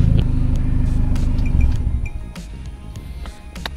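A car with a Tech Pro exhaust running from the downpipe to the rear revs with a deep burbling rumble close by, then settles to a lower idle with a few clinks.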